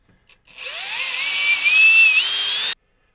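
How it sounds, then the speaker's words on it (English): A power drill bores holes into wooden oars made from paddles, a close, loud, steady whine lasting about two seconds that rises slightly in pitch before stopping abruptly. "So I'm going to drill this one here."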